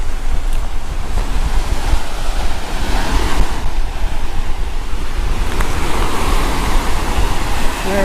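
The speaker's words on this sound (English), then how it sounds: "Okay, it's a little windy out here." Strong wind gusts buffet the microphone on an open beach, mixed with the steady wash of surf, loud and continuous throughout.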